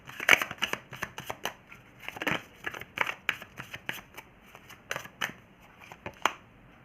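Tarot cards being shuffled by hand, a run of quick papery riffles and soft slaps in an uneven rhythm, close and fairly quiet with no talking.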